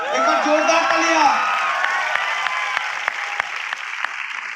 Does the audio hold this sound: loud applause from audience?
yes